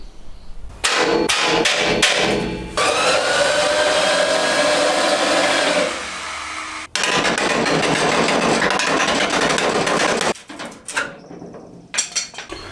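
A power tool fitted with a wire wheel strips rust from the front clip of an R32 Nissan Skyline, loud and close, running in long harsh bursts broken by short stops and a few metallic knocks.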